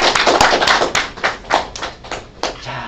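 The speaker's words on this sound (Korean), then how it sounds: "여기서 박수 한번 쳐주세요" An audience at a Korean lecture breaks into applause: a short burst of clapping hands, close and sharp, with a dense patter that thins out into scattered individual claps.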